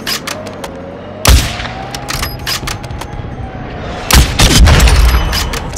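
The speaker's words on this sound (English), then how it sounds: "Enemy precision airstrike." Explosions from a precision airstrike in Modern Warfare II: two heavy booming blasts with dense crackling bursts, one near 1.3 s and a stronger rolling one near 4.2 s, over steady battlefield ambience.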